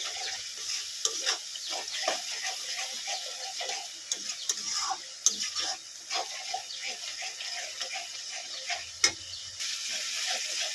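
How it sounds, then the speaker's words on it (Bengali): Ground coriander and cumin with other spice powders are being sautéed in oil, giving a moderate sizzle with frequent spoon-stirring scrapes and clicks throughout. "ভালো করে মশলাগুলোকে পাঁচ মিনিট কষিয়ে নেবে"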